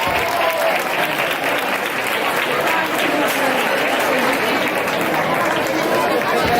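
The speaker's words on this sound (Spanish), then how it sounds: "Un aplauso." A festival crowd claps at a Fallas event in Rascanya: dense, loud applause sustained throughout, with some crowd chatter mixed into the clapping.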